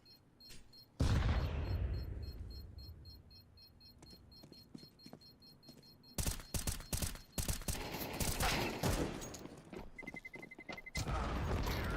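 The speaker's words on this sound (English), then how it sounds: "bomb explodes" A bomb detonates in a tactical shooter video game with a heavy, booming blast that rumbles and fades, followed a few seconds later by bursts of rapid gunfire and sharp electronic beeps.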